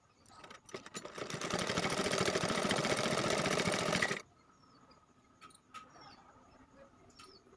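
A sewing machine stitches a folded cloth strap for a bag in one steady run of about three seconds, then stops, leaving a quiet room with faint handling noises.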